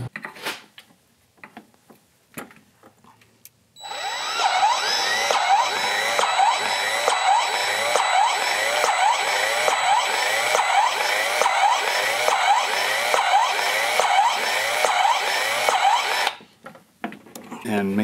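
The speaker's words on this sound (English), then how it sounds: "You got to shoot some grease into that." A grease gun pumps grease into the Zerk fitting of the drive clutch on a 2008 Yamaha Drive gas golf cart. It gives a sustained mechanical whir with regular rhythmic pulses for about twelve seconds, framed by brief clicks and handling noises.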